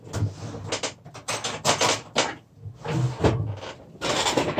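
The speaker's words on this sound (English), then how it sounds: "Sorry for the noises and my squeaky chair." A squeaky chair creaks alongside close handling noises, with irregular clacks, rustles and scraping bursts coming in uneven clusters separated by short pauses.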